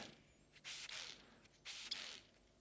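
A continuous-spray trigger bottle releases two long, steady hissing bursts of mist, each lasting about a second with a short pause between, heard close up and fairly quiet with no talking.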